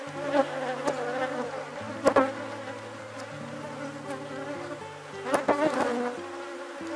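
Apis honey bees buzz steadily around an open hive during a colony split, a dense continuous drone close by with a few louder passes as individual bees fly near.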